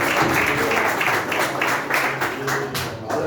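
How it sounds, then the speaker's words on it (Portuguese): Church congregation at an evening missionary-week service clapping together, steady rhythmic applause with pulsing beats, fairly loud with some voices mixed in. "vamos receber a serva de Cristo, aplaudindo Jesus bem forte"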